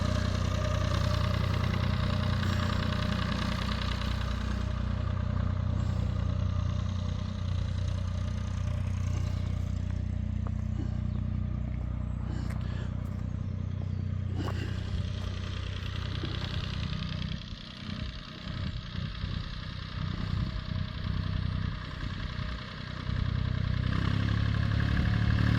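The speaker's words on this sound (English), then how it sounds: "Lovely tractor." A tractor engine idles close by with a steady, low, rumbling drone that runs unbroken, with some rattly mechanical clatter partway through.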